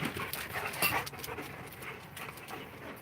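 Lily, a dog with big feet, pants in quick, close, breathy rhythm for a few seconds, left alone while being dog sat.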